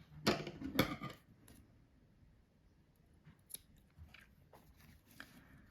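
Scissors snip crochet yarn for a Christmas stocking: two quick close cuts at the start, then quieter scattered clicks and handling sounds, no talk.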